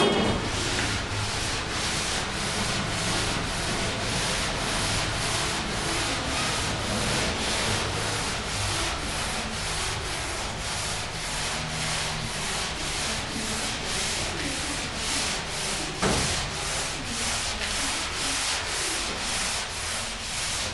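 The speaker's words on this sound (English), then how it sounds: "you want to use the longest sanding block possible for a panel in order to make the car as straight as you can get it" A long sanding block worked by hand over a 1969 Dodge Dart body panel, steady rhythmic rasping strokes repeating evenly throughout, close and loud, with no talking.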